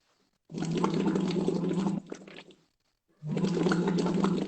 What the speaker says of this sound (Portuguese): Deixa eu mostrar o borbulhar, para vocês verem que interessante.